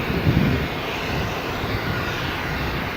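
Boeing 747 jumbo jet engines at Stansted Airport, a steady broad roar heard from a distance with no talk over it.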